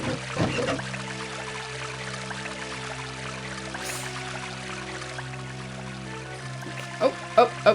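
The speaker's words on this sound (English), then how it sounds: "I mean, sure, I can leave the water running." Water runs from a tap in the 1996 video game Titanic: Adventure Out of Time. The flow is a faint, steady pour over a low ambient hum, and a few sharper knocks follow near the end.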